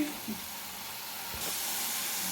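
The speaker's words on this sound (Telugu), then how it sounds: "నూనెలో అయితే వేయించుకుంటున్నాం" Oil fries in a pan with a steady, soft sizzling hiss that suddenly grows louder and brighter partway through, heard close up and alone.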